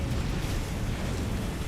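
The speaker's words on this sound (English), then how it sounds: "the delay on the explosion." A video game explosion in a combat game, heard as a continuous low rumbling blast that stays loud and dense throughout with no clear onset or pause.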